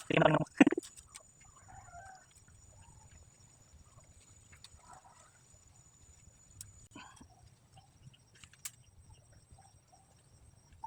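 Native chickens cluck, starting with a short, loud burst of clucking up close, then fading into faint, scattered clucks and small rustles over a quiet background.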